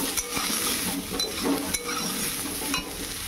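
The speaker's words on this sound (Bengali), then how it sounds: "এদিকে ভেন্ডি ঝাল হবে, তার জন্য ভেন্ডিটা ভাজতে আরম্ভ করে দিয়েছি।" Okra sizzles steadily in a pan close by, with a few sharp scrapes and taps of a spatula against the metal.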